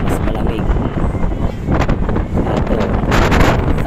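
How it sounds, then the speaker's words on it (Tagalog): Strong, cold gusts batter the microphone high on Mt. Pulag in Benguet, a loud roaring buffet that surges and eases without a break. "Mas malakas ang hangin, mas malamig."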